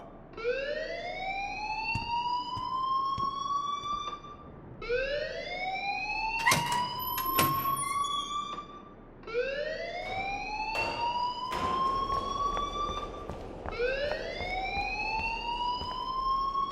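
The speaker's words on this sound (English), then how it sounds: "please turn off that alarm since that's your job" A wailing alarm in the game Life Is Strange rises and sustains in repeated four-second cycles, loud and continuous, with sharp clanks and knocks breaking in between the sweeps.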